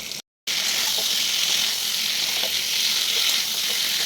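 Ground spice paste with ginger, cumin, coriander and Kashmiri chili hits hot oil in a pan, bursting into a loud, steady hissing sizzle after a brief silent gap at the start.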